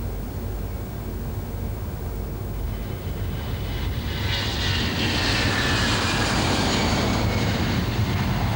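Airbus A320 jet engines spooling up to takeoff thrust on the runway, a broad roar that builds and brightens midway, then holds loud and steady to the end.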